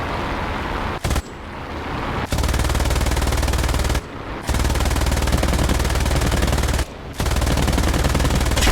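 Sustained bursts of rapid machine gun fire from a BF 109 E-1 fighter plane shooting down a bomber in War Thunder, with a few brief pauses, loud and close, mixed with synthetic game-style sound effects.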